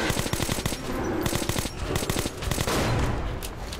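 Rapid automatic gunfire in Metro 2033 Redux, dense bursts of shots rattling close and loud almost without pause, no talking.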